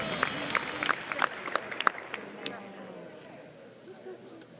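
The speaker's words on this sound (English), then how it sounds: "how about a big round of applause for our top 10 riders" An audience at a Morgan horse show in a coliseum applauds the top ten riders, with bright, scattered claps at first that thin out and fade into a murmuring arena hum.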